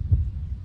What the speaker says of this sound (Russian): Сердцебиение.